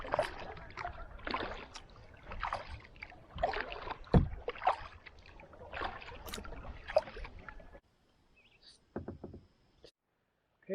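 A Pungo kayak paddle dips rhythmically into the water, close splashes and drips in a steady stroke pattern, then quieter trickles as paddling pauses.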